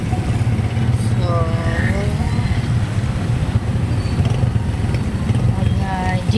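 A jeepney rumbles through rainy traffic in Antipolo with a constant low engine drone and road noise, and a voice speaks over it.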